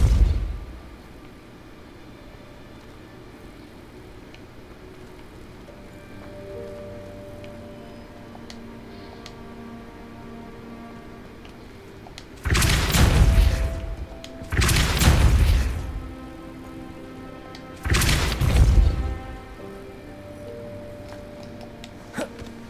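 A Depulso force spell cast in a Harry Potter game: three loud, booming blasts with a whooshing burst, the first two close together and the third after a short pause, following a long stretch of quiet ambience.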